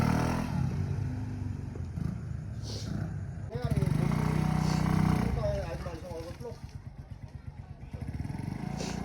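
Scooter fitted with a Nibbi carburetor on a test drive, its engine rumbling steadily and rising in a rev around the middle before easing off, with people talking throughout.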